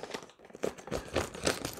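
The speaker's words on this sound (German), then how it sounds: "Ich nehme eine Schere." Scissors cut open the plastic pouch of a US Army MRE, Menu No. 3 Chicken with Cheese Noodles, in a series of close, irregular crinkling snips and rustles with no talking.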